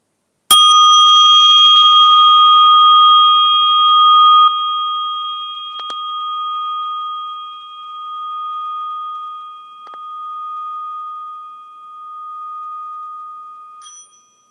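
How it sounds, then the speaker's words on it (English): A small meditation bell is struck once, giving a bright, clear ring that sustains and slowly fades over many seconds in a quiet room, with a faint tap or two as it decays. "all I do is ring this little bell"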